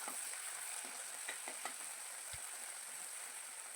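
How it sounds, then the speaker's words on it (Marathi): A spoonful of tomato-onion paste fries in hot oil, giving a close, steady sizzle with faint crackles and one soft knock. "1 चमचा पेस्ट मी तेलामध्ये टाकलेली आहे आणि छान ब्राऊन कलर येईपर्यंत तेलामध्ये तळून घ्यायचे आहे"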